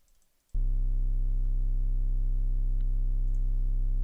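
A slightly distorted triangle-wave sub bass synth enters abruptly after a brief quiet moment and holds one steady, deep, loud tone with faint buzzy harmonics until the end.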